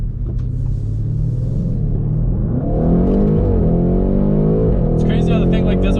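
A tuned Audi RS6 Avant fitted with new downpipes accelerates hard at full boost in third gear, its engine rising in a loud, deep climbing growl after a shift while people talk inside the cabin.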